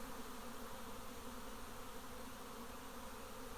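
Dense, continuous buzzing of a honeybee swarm gathered around a garden T-post, a steady faint drone with no pauses.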